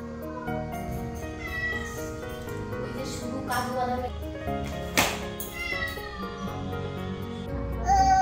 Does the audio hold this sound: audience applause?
no